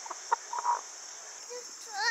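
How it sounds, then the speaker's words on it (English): A calm chicken gives a few soft, short clucks against a steady hiss of background noise, with a brief rising chirp near the end. "Really chill chicken."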